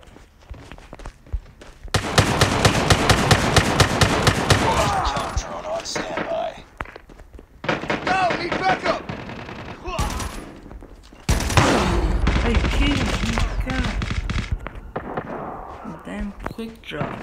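Bursts of rapid automatic gunfire in the mobile shooter game Call of Duty Mobile, several loud sustained volleys separated by short gaps, with a voice talking over the action.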